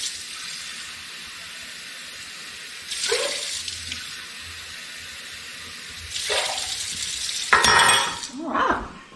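Water pours in a few short splashing bursts into a measuring cup for cooking rice, with a clink of glass near the end, close and fairly loud.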